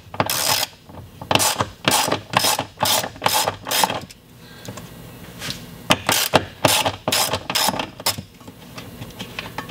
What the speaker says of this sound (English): These 4 nuts are 10mm, so I'm using a 10mm socket to loosen all of these.